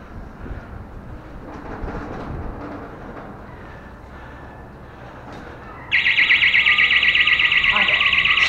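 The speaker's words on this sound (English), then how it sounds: "There's scaffold alarms over there." A scaffold alarm on Brighton rooftops suddenly starts up and rings steadily and loudly after a stretch of outdoor ambience and distant noise, then keeps sounding without a break.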